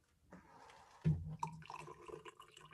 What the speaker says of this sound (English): I'm also going to put some hot water in here.